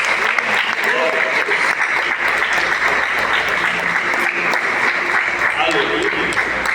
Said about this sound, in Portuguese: E aquele que crê, pode dar uma linda salva de palmas para Jesus